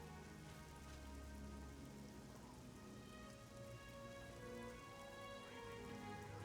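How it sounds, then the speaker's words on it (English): Rain in The Elder Scrolls IV: Oblivion, a steady faint hiss of rainfall with a soft patter that continues unbroken throughout, alone with no voices. "Why does it sound like it's raining?"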